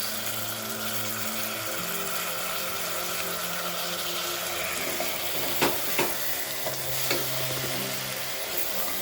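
Ghee rice ingredients being stirred and fried in a pan, a steady close sizzle with scraping spoon strokes and a few louder clatters near the end, no talk.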